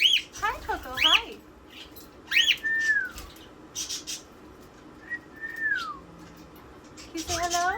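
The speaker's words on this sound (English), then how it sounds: "Those are my birds." Pet birds at a homemade play stand whistling and chirping, rising and falling whistled notes and sharp chirps in scattered bursts close by, with a little talking mixed in.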